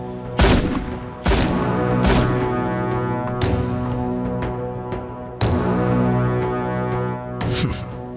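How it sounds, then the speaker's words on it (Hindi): Gunshots fired at a 100–200 metre shooting range, a few loud booming reports spaced a second or more apart, each with a long rumbling echo tail, close and without talking. "सिर्फ 3 फायर करोगे।"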